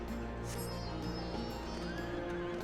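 A horse whinnies in the video game Final Fantasy XIV over a steady background of music, with faint hoofbeats mixed in.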